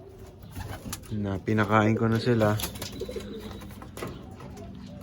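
Gerard Koopman racing pigeons coo in a loft in Seguin, Texas, with repeated throaty coos close by while someone talks over them.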